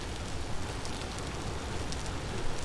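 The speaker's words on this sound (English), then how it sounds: "it has been raining for a couple days now" Steady, close rain hisses and patters continuously in a video game, an even wash of droplets with no voices.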